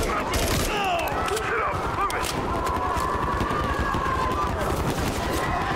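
Rapid, dense gunfire in Call of Duty MW3 as civilians are shot, continuous loud automatic bursts layered with crowd commotion and scattered shouting.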